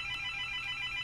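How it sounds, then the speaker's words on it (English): A phone rings in a radio studio, giving a faint, steady electronic ringtone tone heard alone for about a second. "McStupid, pardon my phone ringing"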